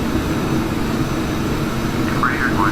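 A Phenom business jet taking off in the FSX flight simulator, a steady, loud engine roar that holds constant throughout, with a brief tonal chirp near the end.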